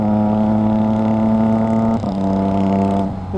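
A Triumph Trident 660 motorcycle engine held at high RPM, a loud, steady, close-up drone that dips briefly near the two-second mark and again near the end, with faint popping in the exhaust.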